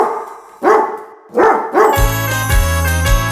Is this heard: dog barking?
yes